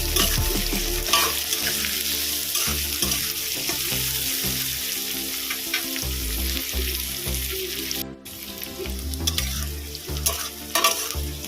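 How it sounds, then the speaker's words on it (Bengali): Chopped onion frying with potatoes in a pan for a fish-head muri ghonto, a loud steady sizzle under frequent stirring and scraping, with some low background hum throughout. "পেঁয়াজটা একটু ভেজে নেব"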